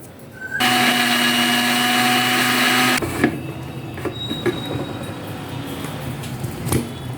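A mixer grinder whirs loudly for about two and a half seconds as it blends curd with black salt, then cuts off, leaving light clatter and handling noises.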